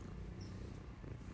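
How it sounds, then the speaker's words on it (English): A soft, steady low rumble of a cat purring, continuous and close, with no voices. "Can you hear her purring?"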